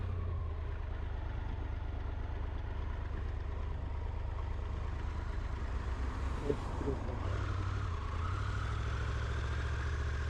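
A Triumph Tiger 1200 GT motorcycle engine drones steadily and low on the road under a constant rush of wind. The hum is close and unbroken.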